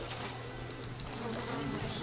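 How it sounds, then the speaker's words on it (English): A steady, dense insect buzz from swarming bees in BioShock drones continuously at low volume, an even hum with faint flickers, with no talking. "You can't escape the bees."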